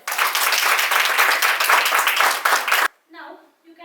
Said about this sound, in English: Give a good applause for yourselves.